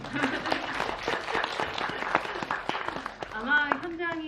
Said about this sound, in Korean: 박수 한 번만 쳐줄까요?